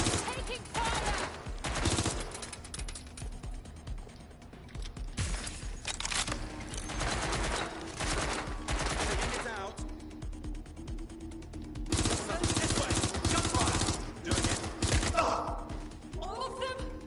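Gunfire in Watch Dogs Legion, with dense bursts of automatic fire and rapid shots from several weapons in a chaotic firefight. The bursts come in waves with short lulls, loud and close, mixed with mechanical clatter.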